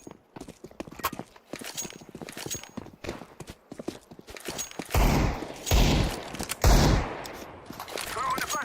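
A flashbang grenade in Counter-Strike 2 bursts loudly in several heavy, noisy blasts close together, following a stretch of rapid clicking game sounds, with a voice talking faintly in the mix.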